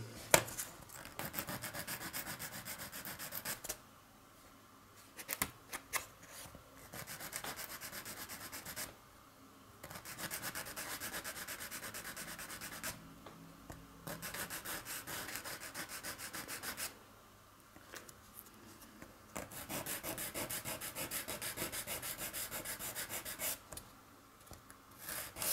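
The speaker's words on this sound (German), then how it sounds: "Schleifen." A Millennium Falcon model part is sanded by hand with steady, close scratchy rubbing strokes, running in long bursts separated by short pauses.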